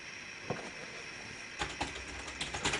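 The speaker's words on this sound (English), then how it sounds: "you can use a keyboard to type." Keys clacking on a keyboard hooked up to an Idolian TouchTab 10 Android tablet, a few isolated taps followed by a quicker run of keystrokes, close and fairly quiet over a steady background hum.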